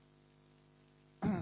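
A man clears his throat once, briefly and fairly close, at the very end after more than a second of quiet room hum.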